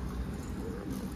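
Pigeons in a large pigeon loft give a soft, low cooing, faint and close, lasting about a second against a quiet background.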